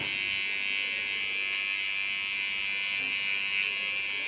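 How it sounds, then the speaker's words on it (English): Fine electric hair clipper trimming the contour line of a short pixie haircut, giving a steady, close, high-pitched buzz that runs continuously without pause. "With my fine clipper, I clean the contour line."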